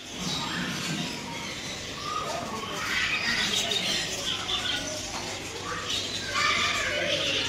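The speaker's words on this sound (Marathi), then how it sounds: "इकडं पण हे सर्व पक्षी आहेत." Colorful birds squawk and chirp in scattered, overlapping calls at a moderate distance, with voices murmuring underneath.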